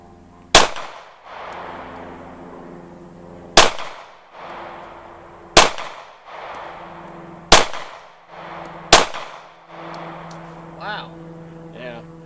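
Five loud, sharp shots from a Steyr M40-A1 pistol chambered in .40 S&W, spaced a few seconds apart at an outdoor range, each with a short ringing decay, with brief voices between.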